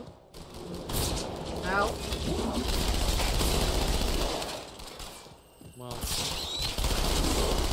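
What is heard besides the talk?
gunfire in the Halo 2 video game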